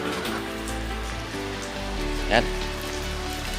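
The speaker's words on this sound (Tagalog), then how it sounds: "Oops, talagang maulan." Steady rain falls on a street during a mountain bike ride, a constant hiss filling the scene while a voice talks over it and a brief squeak cuts through midway.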